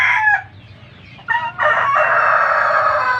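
A pearl white Leghorn cross rooster crows loud and close, starting with a short call, then a brief pause before a long, drawn-out cock-a-doodle-doo.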